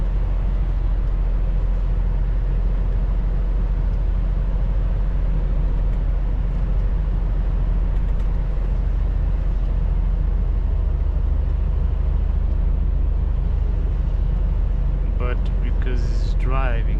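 Steady car cabin drone on a German highway in rain, a constant low road and engine rumble with tyre hiss, continuous and even throughout, with a brief higher squeal near the end.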